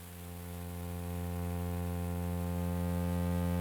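A grain noise layer on a Digitone II synthesizer fades in gradually, a steady hum-like tone with a hissy, static wash over it, growing louder over a few seconds with no talking.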